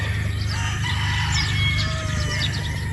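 A straight comb gamefowl broodstag crowing close by over a dense backdrop of other roosters and clucking fowl, the crow standing out loud and clear.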